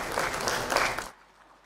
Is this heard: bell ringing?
no